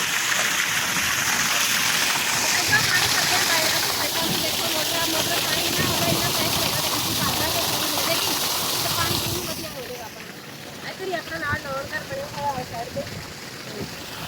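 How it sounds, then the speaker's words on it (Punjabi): Water pours steadily into an emptied and cleaned storage tank, a loud continuous rushing hiss that eases a little toward the end, with a voice talking over it. "ਇੱਧਰ ਆਪਾਂ ਪਾਣੀ ਭਰ ਰਹੇ ਹੈਗੇ ਆ ਆਪਣੇ ਡਿੱਗੀ ਵਿੱਚ"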